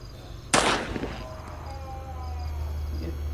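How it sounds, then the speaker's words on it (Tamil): A shotgun blast in the horror video game Granny Chapter 2: one sharp, loud broadband report that decays quickly into a lingering rumble, with a low steady hum underneath and some faint tonal game sounds afterward. "முதல் தடவை குறி பார்த்து சுட்டாச்சு"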